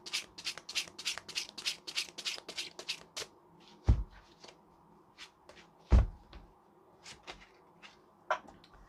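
Tarot cards are shuffled close by in a quick run of crisp riffling flicks, then slow down to scattered single card draws and sharper slaps as they are laid out.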